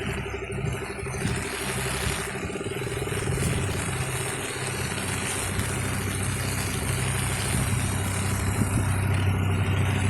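A private motorboat's engine drones throughout near a bridge in Kuttanad, Alappuzha, Kerala, a low mid-pitched hum that rises slightly toward the end as the boat passes close by.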